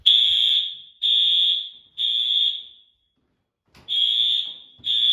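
Building fire alarm sounding during an inspection at an apartment complex, a loud, close electronic tone repeating in roughly one-second blasts with a brief pause midway.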